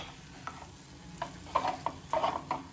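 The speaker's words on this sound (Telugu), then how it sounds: "అల్లం వెల్లుల్లి పేస్ట్ రొయ్యలు కలిపి బాగా వేయించుకుందాము" Prawns fry with ginger garlic paste in a hot pan, giving a quiet sizzle beneath a series of sharper scraping and stirring clicks that grow busier toward the end, with no one talking.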